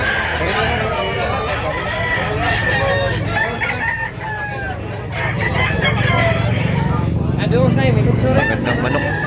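Roosters crow and chickens cluck at a crowded poultry market in Tabunok, Cebu. Repeated crows rise over dense, nearby clucking, with a busy background of murmuring voices throughout.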